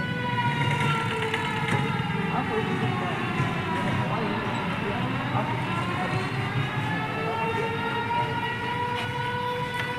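A loud, sustained air raid siren wails continuously during a civil defence drill at a primary school, its pitch slowly sliding down and back up, with a steady rumbling background underneath.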